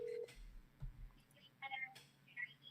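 Telephone keypad dialing tones, a steady beep followed by a few short tones, faint and quiet against a low background, with brief soft voice sounds in between.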